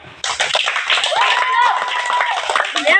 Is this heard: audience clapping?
yes